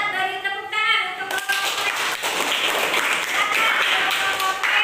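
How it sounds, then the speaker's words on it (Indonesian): Classroom applause for the novel group, a burst of many hands clapping rapidly and steadily for several seconds, starting right after a teacher's voice. "Kita beri tepuk tangan untuk"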